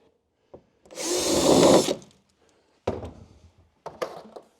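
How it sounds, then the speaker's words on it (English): A power drill whirs loudly for about a second while boring a drain-pipe hole during a roller shutter install on a Ford Ranger Tremor, followed by a few short knocks and scrapes. "So I'll drill my hole,"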